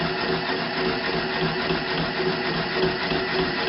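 A hair mat needle machine runs at a raised speed, giving a steady, fairly loud mechanical drone with a fast rhythmic chatter that holds evenly throughout.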